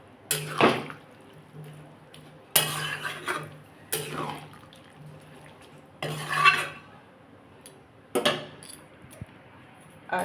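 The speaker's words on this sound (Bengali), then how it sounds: "এবার আমি জল ঢেলে দেবো" Water goes into a pan of potato and egg curry in several separate pours with pauses between them, each burst splashing and clinking against the pot alongside a low steady hum, close by and fairly quiet.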